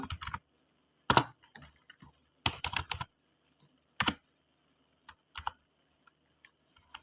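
Bursts of keystrokes on a computer keyboard, typed in a quiet room with pauses between clusters and a firmer tap for Enter; no one speaks.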